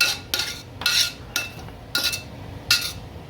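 A spoon scoops Guyanese fried rice, partly burnt at the bottom, out of a pot in about six separate scraping strokes with brief gaps between them, near and moderately loud, no talking.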